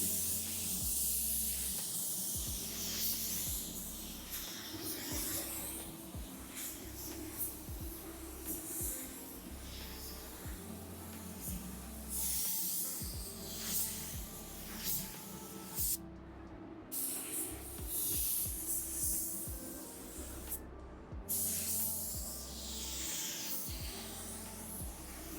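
DV1 paint spray gun laying down a coverage coat, a steady airy hiss in repeated passes with short pauses between strokes, close and fairly quiet.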